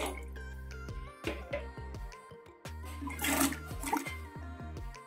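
Water runs and splashes into a saucepan holding raw mangoes set to boil, a close, bubbling pour with sharp drips and knocks over a steady backdrop of background music.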